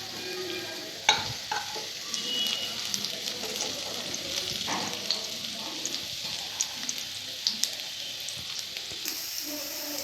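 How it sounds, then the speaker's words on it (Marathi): Garlic frying in a pan of hot oil, a steady bright sizzle with crackles and spits, broken by clinks and scrapes of stirring, fairly close and with no talking. "लसूण चांगला भाजून घ्यायचा। हे बघा, लसूण भाजत आलेला आहे।"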